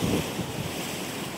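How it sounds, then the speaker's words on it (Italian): Black Sea waves breaking on the shore at Sochi, a continuous loud wash of surf with heavy wind buffeting the microphone and no voices. "il mare che parla"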